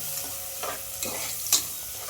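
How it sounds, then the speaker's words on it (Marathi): Onion frying in plenty of oil over a cumin-mustard tempering, a constant close hiss broken by a few brief stirring scrapes and a sharp spatter near the end. "आता छान असा कांदा तळून घ्यायचा आपल्याला"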